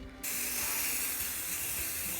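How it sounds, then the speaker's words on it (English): Spray paint can hissing as door hardware is painted black, a sudden steady close hiss that starts after a brief quiet moment and runs continuously to the end. "I'm gonna spray paint all the hardware black"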